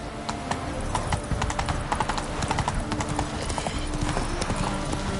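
Roach the horse walks in Witcher 3, hooves clip-clopping in a steady, close rhythm over ambient game sound and music.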